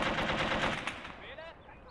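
Rapid bursts of auto cannon fire from a World War II strategy game set in the invasion of Poland, loud at first and then tapering into fainter shots and battlefield noise.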